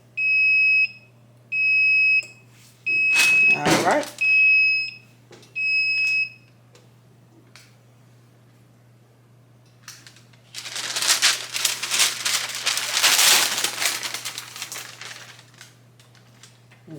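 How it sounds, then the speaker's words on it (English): A heat press timer beeps in short repeated bursts, a few high tones each, then a loud rustling, crackling burst follows after a pause. "So it's beeping now, so I'm going to let it go for about 5 more seconds."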